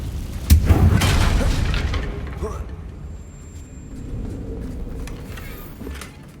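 Confringo fire spell exploding in the Hogwarts Legacy video game, a loud booming blast with rumble that fades over a couple of seconds into quieter game ambience.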